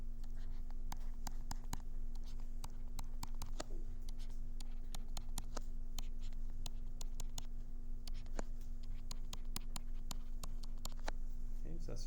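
Chalk or marker taps and scratches across a board in quick, irregular strokes while a lecturer draws the structure of glucose, over a steady room hum and faint classroom background.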